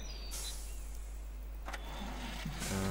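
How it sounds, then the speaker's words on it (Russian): A truck engine turns over and starts in an off-road mud-driving game, a short cranking burst and clicks giving way to a low steady idle near the end. "Заводим движок."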